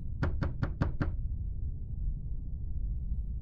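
Five rapid, evenly spaced knocks on a door in the indie horror game The Hotel, crisp and close, followed by a low, steady ambient hum.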